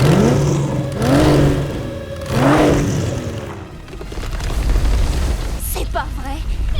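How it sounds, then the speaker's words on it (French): A cartoon car engine revs up in repeated surges, rising and falling in pitch, with a low rumble continuing underneath. "Les vrombissements du moteur."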